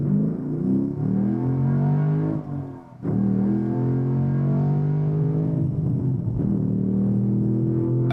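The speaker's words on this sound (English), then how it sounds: "I feel like we can hear the engine more now." A BMW M2/M4 engine and intake pull hard under acceleration, a loud steady drone with rising harmonics, one brief dip near the middle before the revs climb again.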